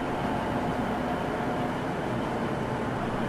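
An empty roller coaster train on its first test run roars past in a steady, loud, continuous rumble of wheels on track, with no voices.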